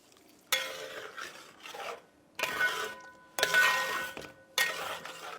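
Melted butter with deggi mirch being stirred into chicken changezi, four separate bursts of scraping, rubbing spoon strokes with brief quiet gaps between, fairly close and soft.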